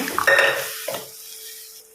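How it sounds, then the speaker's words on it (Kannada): Boiled chickpeas being stirred into a simmering masala in a pan for kadle sukka, with a short burst of scraping and clinking at the start, a second brief scrape, then a quiet bubbling simmer and no talk. "ಬೇಯಿಸಿಟ್ಟಂಥ ಕಡಲೆಯನ್ನು ಸೇರಿಸಿ ಮಿಕ್ಸ್ ಕೊಡುವ"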